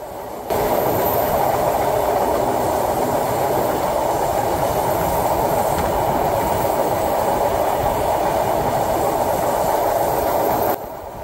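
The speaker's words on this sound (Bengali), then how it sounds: "এরই মধ্যে ট্রেনটি এখন অতিক্রম করে যাচ্ছে বুড়িগঙ্গা নদীর ওপর নির্মিত বুড়িগঙ্গা রেলওয়ে সেতু" Rupashi Bangla Express passenger train crossing the Buriganga railway bridge over the Buriganga river, a loud, steady roar of wheels and rattling carriages filling the whole stretch, with faint clickety-clack and no voices.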